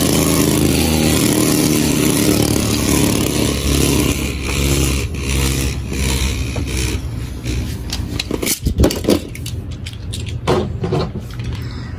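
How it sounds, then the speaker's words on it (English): Beyblade X ViperTail defense spinning top in a test spin, a continuous loud whirring scrape close by that grows rougher with rattling clicks as it slows over twelve seconds. "First up, let's test spin the yellow ViperTail, the defense one."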